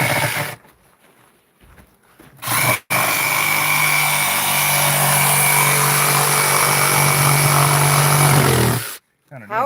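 A power tool whines at a steady, loud pitch for several seconds outdoors on a hot day, starting and stopping abruptly with quiet gaps around it.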